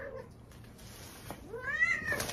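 A pet cat meows a few times indoors, short plaintive calls with a rising, wavering final meow, fairly close amid quiet room noise.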